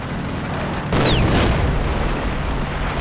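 A tank cannon fires in the wargame Combat Mission: a single heavy boom breaks through a steady rumbling background, with a short whistling streak as the round flies, then a rolling echo fades.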